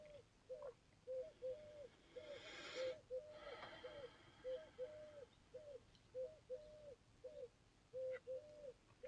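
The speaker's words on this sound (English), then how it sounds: "It's a pigeon, the dove." A pigeon coos over and over in a steady repeating rhythm, soft and a little distant, with faint background noise and no talking.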